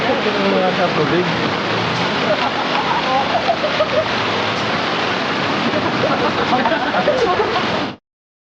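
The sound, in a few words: Carreta Falls waterfall and river, Bulacan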